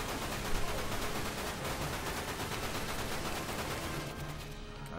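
Machine gun fire in the game Dirge of Cerberus, a steady, dense rattle of rapid shots running the whole stretch at moderate level, with no talking.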